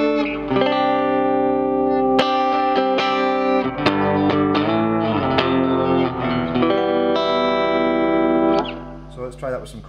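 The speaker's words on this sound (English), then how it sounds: "So we'll start on the A channel with just some echo and no overdrive." An electric guitar plays a melodic phrase through a Gallien Krueger 250ML amp on its A channel, clean with echo and no overdrive, bright sustained notes and chords ringing out with repeating tails before a brief pause.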